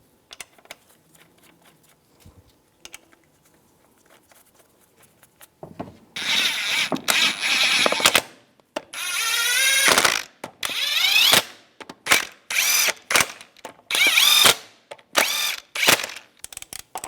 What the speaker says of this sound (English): Put the wheel on. And the lug nuts.